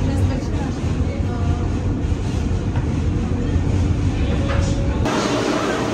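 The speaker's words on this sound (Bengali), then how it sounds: "এখন আমরা উইলিয়ামসবার্গ ব্রিজের ওপর দিয়ে ট্রেনটা যাচ্ছে" Subway train crossing the Williamsburg Bridge in New York: a loud, continuous rolling rumble and rattle of the cars, shifting in tone near the end.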